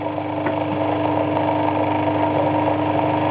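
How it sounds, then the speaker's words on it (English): Adams motor running steadily under load, a continuous close mechanical hum with a rising pitch as it speeds up, loud and unbroken with no voices. "you'll see the motor, you can hear it speeding up"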